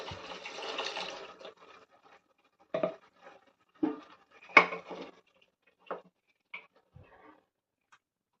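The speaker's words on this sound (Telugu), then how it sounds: "చికెన్ ఉడకడానికి సరిపడా నీళ్ళని వేస్తున్నాను." A short pour of water into a pot of chicken, followed by scattered clinks and knocks of cookware in a quiet room.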